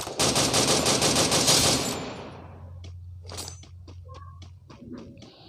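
Bursts of rapid automatic gunfire from a shooting video game rattle loudly for about two seconds, then fade into a low hum with scattered clicks and faint game sounds.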